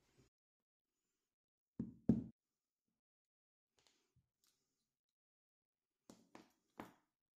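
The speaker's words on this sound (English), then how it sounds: "By giving the brass inlet tube a light tap, I can mark the exact spot" A brass inlet tube gets a few light taps against a ring to mark a hole, short dry knocks in small clusters separated by near silence, close and quiet.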